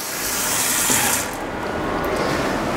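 A HYLIFT undersink pump runs, pushing water out with a steady, close rushing gush that swells briefly near the middle and then settles into an even flow.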